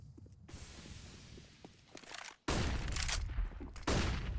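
Counter-Strike: Global Offensive match on the Train map, with a burst of rapid gunfire spraying and footsteps during a professional tournament round, the shots loud and sharp against quieter in-game ambience.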